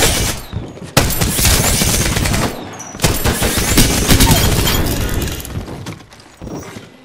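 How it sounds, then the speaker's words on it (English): Heavy gunfire in the Apex Legends video game, sustained close automatic volleys with sharp onsets and a few brief gaps, mixed with cracking, shattering impacts and no speech over it. "I'm taking shots."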